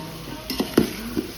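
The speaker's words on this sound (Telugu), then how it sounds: "ముక్కలు బాగా ఉడికేదాకా కలపాలి." Vegetable pieces stirred in a pot of sambar, with a few soft scraping knocks of a spoon against the pot over a low, steady bubbling simmer, close and quiet.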